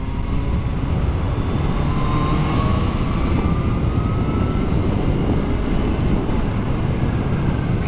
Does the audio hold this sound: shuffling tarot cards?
no